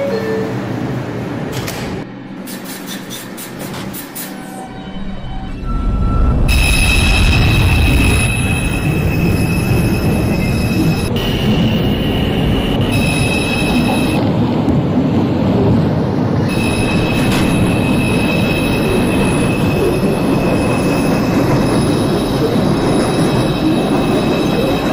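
A Bronx-bound 2 express subway train in the OpenBVE simulator game: door chimes and tones, then a loud, sustained rumble of the train pulling away, with wheel squeal and rolling rail noise carrying on throughout.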